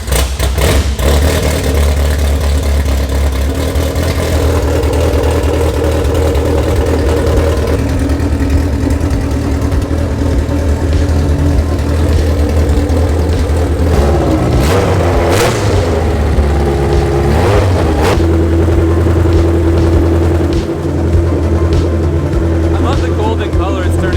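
A high-compression K series engine in an S13 with Toge Factory high-rise open headers runs loud and raw, idling and revving with a constant engine roar for the whole stretch, with voices heard over it.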